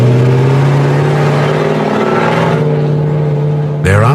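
An old Russian Jeep's engine idles in the Gobi desert, a loud, steady near drone with a strong low hum that drops out just before the end, then picks up again.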